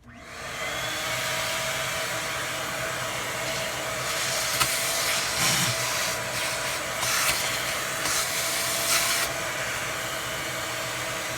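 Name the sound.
rigid portable shop vac vacuuming debris from iRobot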